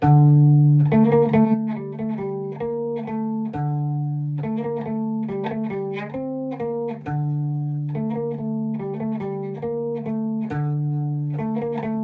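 A low, distorted bass guitar plays a repeating riff of punchy notes in a steady rhythm, with no voices.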